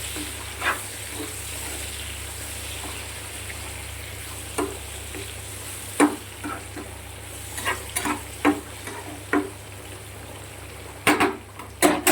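Spices including turmeric and chilli powder fry in a pan with a low, continuous sizzle, broken by scattered stirring scrapes and clicks that grow more frequent toward the end.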